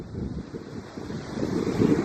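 Waves and wind on a beach in Vietnam, a steady soft rush of surf with wind buffeting the microphone, building slightly toward the end, no voices.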